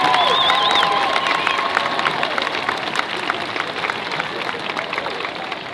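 A crowd claps and cheers for a 2021 Hendersonville High School Hall of Fame inductee, a sustained wash of applause with a few whistles at the start, steady throughout and slowly easing.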